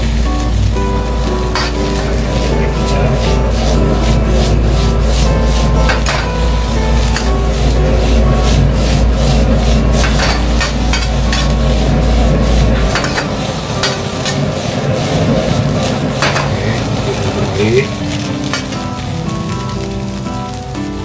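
Japanese-style fried rice with vegetables is stirred and tossed in a hot pan, giving a continuous loud sizzle with repeated scraping and clacking from the utensil, alone with no voices.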